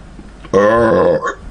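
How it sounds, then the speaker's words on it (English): A single loud, drawn-out burp rumbles for just under a second, close and alone, after someone talks about drinking coffee all day and eating bread. "I give not a shit to sit there and try to hold a burp in so it hurts."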